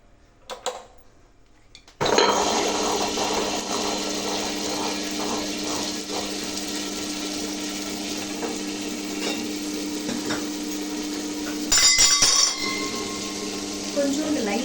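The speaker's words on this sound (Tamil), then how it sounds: "இப்போ நான் கிரைண்டர் ஸ்விட்ச் ஆன் பண்ணுறேன்." A countertop wet grinder switches on and runs steadily, grinding soaked rice and urad dal into idli dosa batter at home, a continuous close mechanical whir and churning with brief clatters, no voices.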